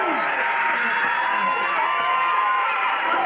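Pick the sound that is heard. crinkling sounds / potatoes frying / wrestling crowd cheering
wrestling crowd cheering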